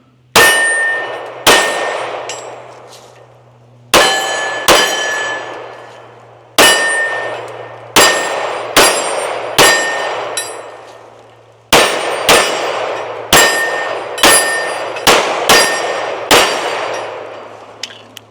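A Springfield Armory Echelon 4.0C compact pistol fires at steel targets: about sixteen sharp, loud shots come singly and in quick pairs or strings, each followed by a ringing metallic clang that decays between shots.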